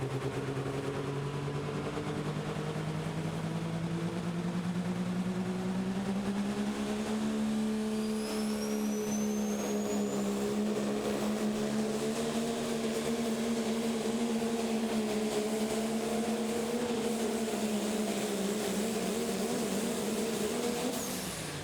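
A Pro Stock diesel pulling truck named Living on the Edge makes its pull in a Terre Haute, Indiana finals, its engine holding a loud, steady, sustained roar throughout with a gradual rise in pitch midway.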